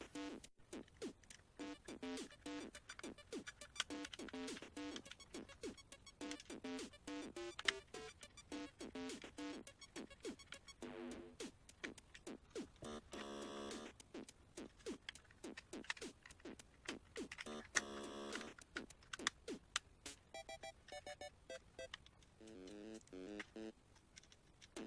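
A tri-wing screwdriver drives six small screws into the back of a Game Boy Color shell: a long run of quick, faint, close-up clicks and ticks in an irregular rhythm.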